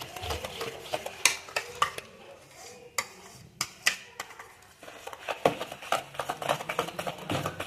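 Utensil scraping and clinking against a bowl while stirring homemade cake batter made with semolina and milk, a series of irregular close taps and scrapes with brief pauses between strokes.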